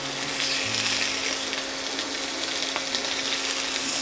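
Pork loin coated in peppercorns searing in a little oil in a pan, a dense, steady hiss of sizzling fat, loud and close, with a faint low hum beneath.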